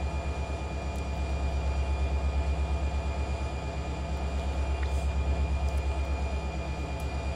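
The LS917J freight train locomotive works along the Arvin Branch with a steady, pulsing low diesel rumble and rhythmic throb held close and loud throughout, with no talking.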